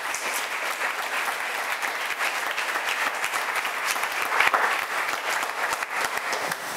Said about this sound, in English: Let's have another round of applause for the organizers,